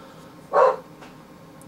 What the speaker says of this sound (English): My dog's just barking at random things outside.